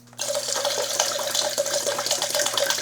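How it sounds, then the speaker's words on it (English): A gallon of water pours steadily into a bucket holding tankless water heater descaling solution, a continuous close splashing rush that starts abruptly and runs without break. "we will follow that with our"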